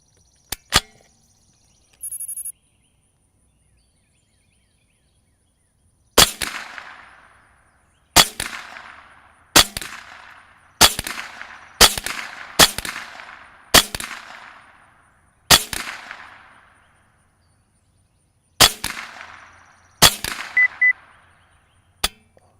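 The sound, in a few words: rifle gunshots while sighting in a scope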